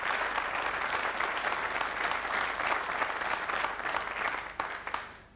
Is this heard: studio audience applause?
yes